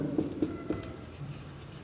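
Chalk or marker strokes on a classroom board while writing out maths, a few quick scratchy taps early on, then steady soft scraping, close and fairly quiet.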